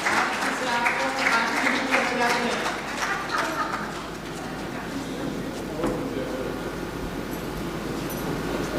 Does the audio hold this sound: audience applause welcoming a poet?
yes